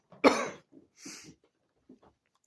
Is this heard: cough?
yes